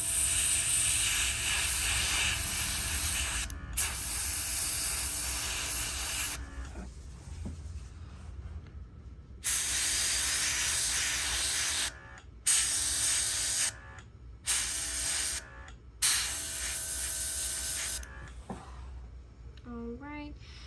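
Aerosol spray paint hisses onto a carved wooden squirrel in several sustained bursts of a few seconds each, separated by short pauses, loud and close.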